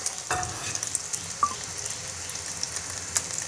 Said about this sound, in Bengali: তেলটা গরম হতে কড়ার মধ্যে দিয়ে দিলাম ডিমটা